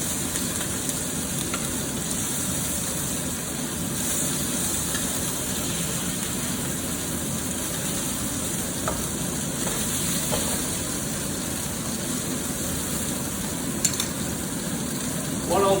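Pork balls sizzle steadily in a pan after being turned, a dense continuous frying hiss that stays close and even throughout with a few faint clicks and no talk.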